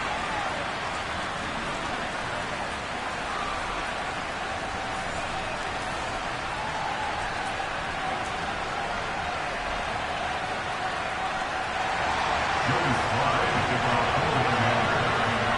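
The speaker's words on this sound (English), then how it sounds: "The rain set to continue as we are underway in the second half." Rain falls steadily on an outdoor football game in the second half, a continuous broad hiss of drops with faint crowd and commentary underneath that swells slightly near the end.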